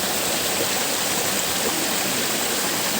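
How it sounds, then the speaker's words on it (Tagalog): Waterfall roaring steadily from close by, heard from the top of the falls: a dense, unbroken wash of rushing water that fills the whole clip with no voices. "nasa taas ng talon"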